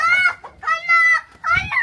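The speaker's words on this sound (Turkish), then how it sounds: "Bak burada siyah tavuk şey var." Loud, close chicken vocalizations in three drawn-out, harmonic squawking calls with brief pauses between them.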